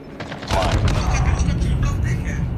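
Gunfire from a scoped AK rifle in a video game, a steady dense stream of shots that starts abruptly and continues loud and unbroken to the end.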